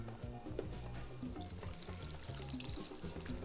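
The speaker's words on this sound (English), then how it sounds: "You want to get some water to at least cover up your beans." Water pours steadily into a container of beans for moi-moi, a continuous trickling splash against low background hum.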